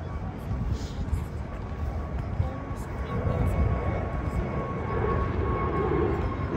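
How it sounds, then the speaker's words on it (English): Airplane passing along a flight path above the London Cable Car, a broad low rumble building gradually and staying fairly steady, with voices talking on top. "there's an airplane there, so it's a bit noisy"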